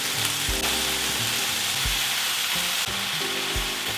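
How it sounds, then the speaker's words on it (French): Beef broth poured into a pan of sizzling toasted spices, a steady loud frying hiss with intermittent low bubbling and stirring sounds, close up, no talking. "Les épices torréfiées, maintenant le bouillon,"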